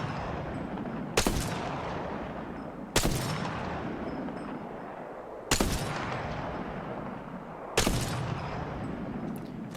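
Four sharp, loud Longbow rifle shots from Apex Legends, spaced roughly two seconds apart, each with a reverberant tail over steady game ambience.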